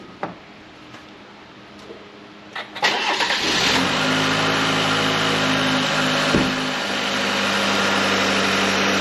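A truck engine is cranked to life after a few faint clicks and a brief stutter, catching with a burst and then settling into a steady, loud, close idle that continues to the end.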